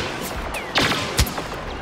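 Blaster gunfire in Star Wars Battlefront crackles in a few sharp bursts, with two louder close shots standing out against a busy battle background.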